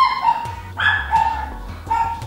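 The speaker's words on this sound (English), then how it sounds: "You can hear my dogs in the background." Pet dogs barking and yipping somewhere in the house, a few clipped barks at a moderate distance over a low background hum, with no talking.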